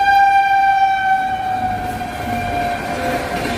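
A fast train passing a closed level crossing at Mankar in Purba Bardhaman, a loud sustained horn blast at the start that slowly fades while wheel and carriage rumble continues beneath, no voices.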